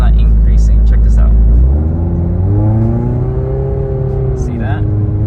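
A 2011–2015 Scion tC with a slipping transmission revs up steadily, the engine pitch climbing smoothly without a gear change, loud and close from inside the car, with someone talking over it.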